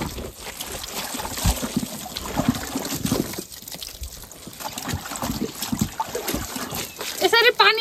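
Water splashes and pours out in repeated bursts near a hillside home in Baitadi, clattering against the ground, with people talking over it throughout.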